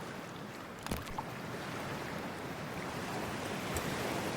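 A character wades into freezing water in Cyberpunk 2077 while wearing a wetsuit, with a soft splash followed by steady sloshing and surf-like wash, close by and alone.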